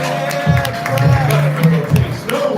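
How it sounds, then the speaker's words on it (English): Live crowd clapping and cheering at a New Orleans show as a performer is called to the mic, loud and steady with bursts of whoops, under ongoing hubbub and talk. "They're already clapping for Quest"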